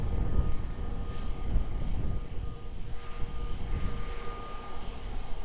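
An airliner taking off at Lisbon Airport, a continuous broad low-pitched engine roar with a faint steady whine, heard from a distance at even loudness without talk.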